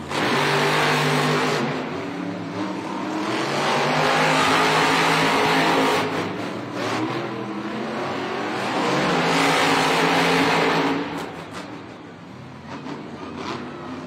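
Monster trucks Gravedigger and Dragon racing in an indoor arena at a Monster Jam event, with loud roaring engines swelling and fading in waves amid crowd noise, then easing off near the end.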